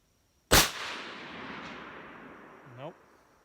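A single loud, close rifle shot from a Remington 700 hunting rifle cracks sharply, then rolls into a long fading echo; a brief voice is heard near the end.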